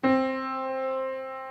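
A single piano note, middle C, is struck and left to ring, its clear tone sustaining and slowly fading over a second and a half.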